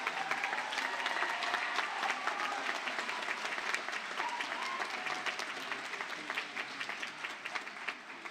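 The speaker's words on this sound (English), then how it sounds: "Let's give them all a big round of applause." An audience at an 8th grade graduation ceremony applauds the students who earned straight A's: dense, steady clapping from many hands that fills the room and continues evenly, easing slightly toward the end.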